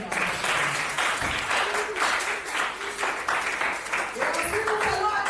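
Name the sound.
congregation applauding in church worship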